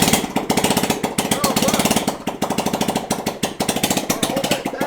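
A 150cc GY6 scooter engine on a tandem scooter runs close and loud with a fast, rattling, steady chug that continues throughout.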